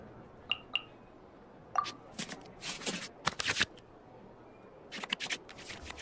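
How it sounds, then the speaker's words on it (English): Cards being shuffled back into the draw pile in the Genshin Impact card game: a few light flicks, then bursts of riffling card sounds, clear and close with no talking. "we can select any number of cards in our hand to shuffle back into the draw pile"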